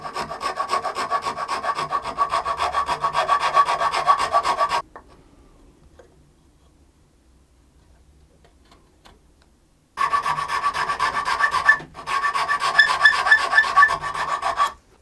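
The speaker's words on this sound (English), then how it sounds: "I will use my files" Rhythmic rasping strokes of a hand file on wood for a shaping mould, steady for several seconds, a pause of near silence, then more filing resumes close by.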